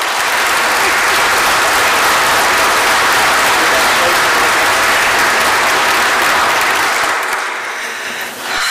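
Sustained applause fills an audience hall as a crowd welcomes speaker Ruth Ann Buck at a fallen educators memorial dedication, steady and loud for about seven seconds before tapering off at the end.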